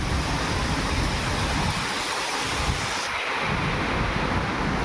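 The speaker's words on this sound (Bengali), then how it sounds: "প্রচুর বৃষ্টি হচ্ছে আর ঝড়" Heavy rain and storm wind roar as a dense, continuous wash of noise close to the microphone, with gusts buffeting it and no voices heard.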